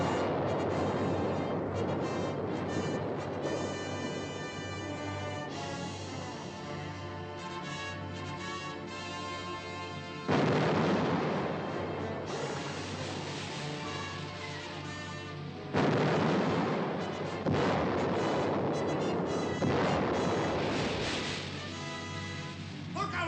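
Ship's guns from the 1954 film 20,000 Leagues Under the Sea fire at a fleeing vessel, several heavy booms at irregular intervals over a sustained orchestral score.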